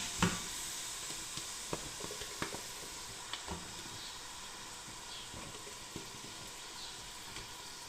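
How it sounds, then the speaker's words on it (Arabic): Chopped onions frying in melted ghee make a soft, continuous sizzle and hiss, with a few light clicks and taps from stirring scattered through. "بعد ما حطينا معلقتين السمنة أول ما يسيحوا معانا نبدأ نحط نص الكيلو البصل"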